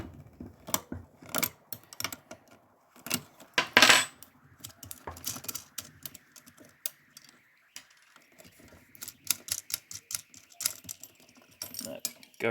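Zip tie being snipped and a 9/16 hex nut loosened with a wrench while wiring new on/off switches on a K9 II, heard as sharp close clicks, snaps and metallic clinks in irregular bursts with quiet gaps, no talking.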